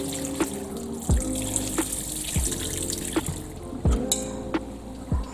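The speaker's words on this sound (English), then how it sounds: "We will drain the water from the pigtail" Water draining off boiled pigtail and salt beef in a pot for Grenadian oil down, a steady splashing trickle with a few sharper clunks and pours, close and alone.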